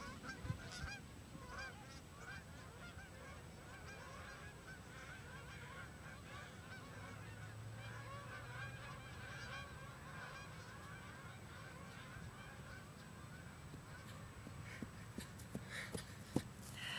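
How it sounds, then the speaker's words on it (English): A flock of geese honks continuously outdoors, many overlapping calls at moderate distance forming a busy, steady chorus. "As you can see, there's like lots of geese."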